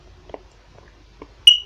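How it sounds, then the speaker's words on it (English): A mains smoke alarm removed from its Radiolink base gives a single short, sharp, high-pitched chirp near the end, loud and close, after a few faint handling clicks and taps. "It's going to chirp in a second and scare me."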